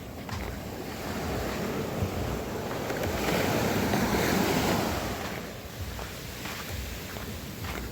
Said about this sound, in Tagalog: Alo ng dagat.